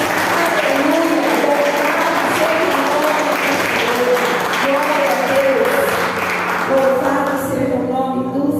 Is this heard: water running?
no